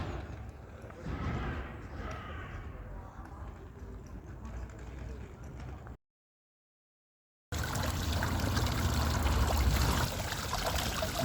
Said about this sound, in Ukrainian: Візбаденські термальні джерела